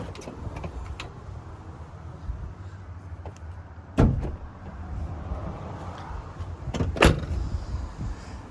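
A Squarebody crew cab pickup truck with its hood being popped open: a sharp metallic latch clunk, then a second louder thunk a few seconds later, over steady low outdoor background noise and no talking.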